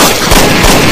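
A single loud gunshot blast in a dubbed action drama, a harsh broadband burst filling the whole moment close and overpowering.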